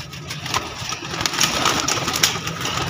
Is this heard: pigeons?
yes